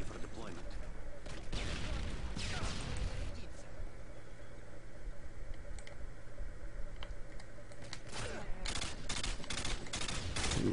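Rapid gunfire in a multiplayer shooter video game crackles in dense bursts at moderate volume, mixed with clicking keyboard keys and other game noise, while faint voices come and go beneath.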